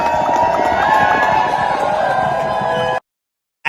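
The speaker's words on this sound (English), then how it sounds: "Thunderous applause." Crowd cheering and applauding loudly, a dense roar of voices and claps sustained for about three seconds before cutting off abruptly into silence.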